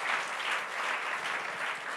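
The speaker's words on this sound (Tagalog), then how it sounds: "Palakpakan naman natin ang Panginoon at salitang honor." A church congregation applauds together in a dense, steady round of clapping that swells slightly and carries on throughout, with no voices standing out.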